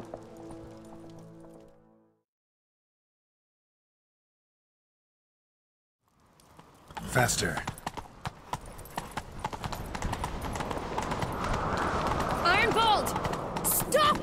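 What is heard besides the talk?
horse galloping in The Witcher 3 video game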